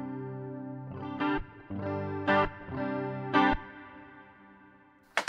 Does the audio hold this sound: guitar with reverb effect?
yes